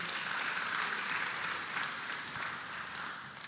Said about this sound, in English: let's give our speakers a round of applause again